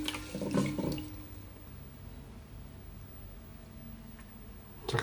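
Rice being rinsed in water before cooking in a Hitachi RZ-D18GF rice cooker, giving a close splashing, swishing burst early on, then a steady low watery wash and a final slosh.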